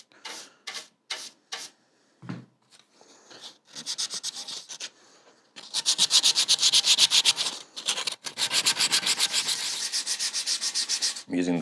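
Guitar wood being hand sanded with folded 120 grit sandpaper, close and loud: a few short separate strokes at first, then long runs of fast, steady back-and-forth rasping.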